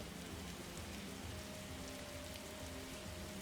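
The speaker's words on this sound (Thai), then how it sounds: "ฝนตก แล้วด้วย" Steady, dense rain patters continuously in the Roblox game Survive on a Raft, a uniform wash of falling drops with a faint tonal hum beneath.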